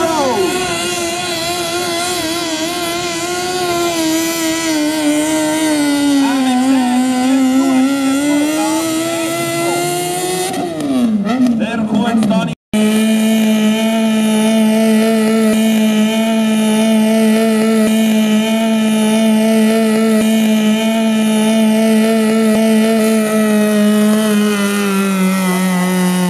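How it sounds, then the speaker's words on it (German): Tractor engine at a tractor pulling competition in Zimmerwald, roaring loud and sustained with shifting pitch, a brief break near the middle, then a steady high-revving drone. "Achtung, der Herbert fährt jetzt an."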